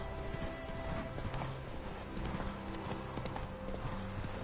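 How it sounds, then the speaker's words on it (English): Horse hooves clip-clop steadily in the video game The Witcher 3, a quiet rhythmic trot over a faint ambient game soundscape. "Come on, horsey."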